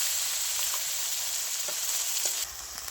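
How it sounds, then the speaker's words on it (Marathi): Masala paste with turmeric, coriander powder, red chilli and garam masala frying in hot oil, a steady close sizzle with faint stirring scrapes and no talk. "मसाला चांगला परतून घेऊ"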